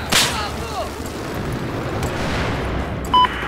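Grenades go off in a Battlefield 4 Conquest Large match on Lancang Dam, starting with one loud blast that fades into a rumbling, noisy battlefield with a brief electronic tone near the end.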